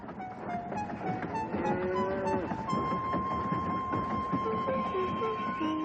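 Steam engine Henry, a storybook train, rolls along the tracks toward a cow standing on the line. Continuous rumbling and clatter fill the scene, with sustained whistle-like tones over the top.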